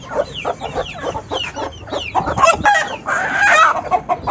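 Aseel hens cluck and squawk close by as they are caught and moved into a new colony cage, with repeated agitated calls, rustling and a burst of louder flapping and cackling midway.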